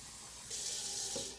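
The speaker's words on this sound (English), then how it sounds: "And now I'm gonna add a cup of water." A cup of water being poured into a pot of vegetarian tortilla soup, a quiet, hissing splash that starts abruptly partway through and holds steady before trailing off.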